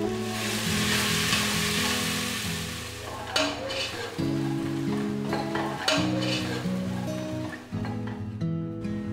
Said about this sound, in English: I heated a mix of ghee and vegetable oil. Do saute the crushed ginger, garlic and shallots.